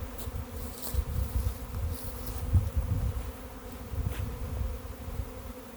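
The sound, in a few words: honeybee swarm buzzing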